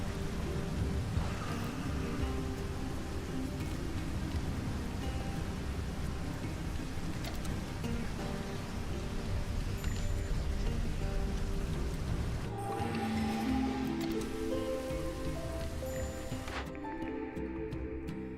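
Rain hisses steadily on surfaces in the video game Against the Storm, joined by low thunder rumbles, before the downpour thins and changes near the end.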